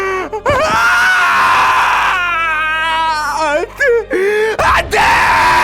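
A woman lets out a long, loud, despairing scream that wavers and breaks into sobbing wails, with a few sharp gasps between cries, very close and raw.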